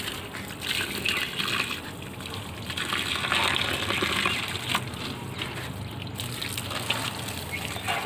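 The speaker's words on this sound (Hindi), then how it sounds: "मल्चिंग के ऊपर ऐसे पानी डाल दी हूँ" Water poured by hand over mulch in garden pots, a steady splashing gush that stays fairly loud and continuous, close by, with no talk.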